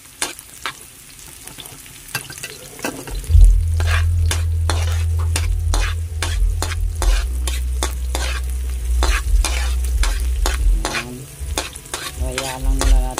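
Leftover fried tulingan fish with ingredients browning in a pan, a steady loud sizzle running under repeated scraping stir strokes of a utensil against the pan, close and continuous.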